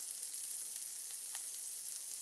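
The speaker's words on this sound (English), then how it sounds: "Let's let these burgers cook." Burgers fry in a pan with a soft, even hiss that stays steady and fairly faint throughout, with no voices or stirring strokes over it.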